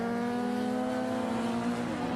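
A Windle racing sidecar with a 1000cc Yamaha R1 engine at a 2010 New Zealand sidecar Grand Prix at Ruapuna, Christchurch, holds a sustained, loud high-revving engine note that stays steady throughout with no voices.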